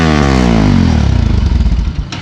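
A Bajaj Pulsar RS200 motorcycle with a loud aftermarket exhaust roars close by, its rev climbing and then dropping back into a rough, throbbing burble, with no talk over it.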